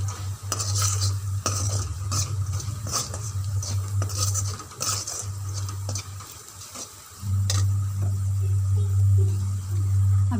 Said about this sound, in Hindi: अब इसमें मैं ये मसाले शामिल करूँगी। थोड़ा सा इनको हम भूनेंगे।